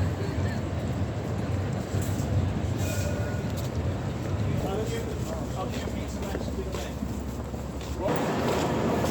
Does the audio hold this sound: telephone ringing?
no